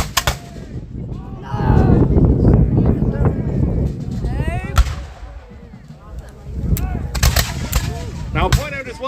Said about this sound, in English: These guys are still shooting over here.